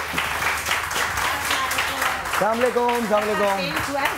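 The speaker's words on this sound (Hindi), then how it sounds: "आइए मिसेस खान के लिए बहुत सारी तालियां बजाइए।" A studio audience applauds for Mrs Khan on a live morning television show, steady clapping throughout with a voice speaking over it in the second half.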